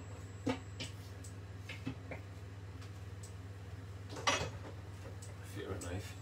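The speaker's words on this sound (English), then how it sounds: "Let me just get a knife." Cutlery clinks and a drawer rattles as a knife is fetched in a home kitchen, a few scattered metallic knocks over a steady low hum, quiet and close.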